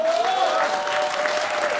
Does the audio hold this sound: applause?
yes